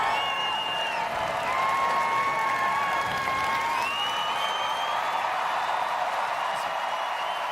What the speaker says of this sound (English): They're cheering for their favorites.